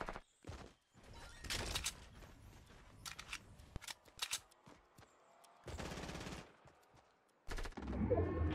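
Bursts of Fortnite Battle Royale gunfire, likely shotgun and rifle shots, come in separated volleys with quiet gaps between them, moderately loud against a low game ambience.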